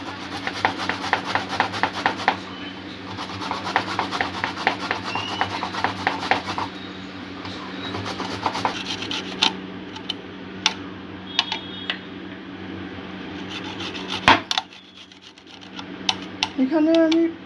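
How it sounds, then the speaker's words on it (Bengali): Garlic cloves are grated over chicken by hand, producing quick rhythmic rasping strokes up close, pausing and resuming, with speech heard at moments. "7-8 কোয়া মতন রসুন ঘষে দিয়ে দেব"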